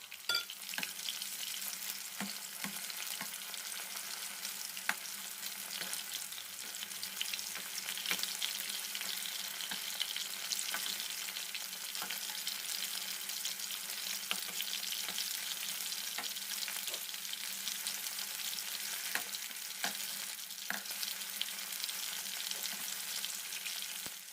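Fried rice for Chinese fried rice stir-fried in a pan, giving a steady close sizzle with scattered scraping and tapping from the spatula throughout, no voices.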